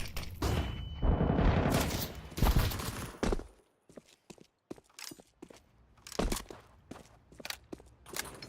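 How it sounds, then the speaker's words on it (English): Counter-Strike 2 flashbang grenade going off in a matchmaking round: a loud, dense burst of noise followed by scattered sharp clicks and footstep-like taps, with more bursts returning toward the end. "Flashbang out."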